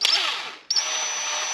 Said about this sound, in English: you got to be really careful when you're drilling this